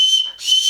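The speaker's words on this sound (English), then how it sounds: "kind of barely makes a whistle" A tiny toy recorder gives a thin, breathy high whistle, close and loud, fading out briefly in the middle of its short span before sounding again.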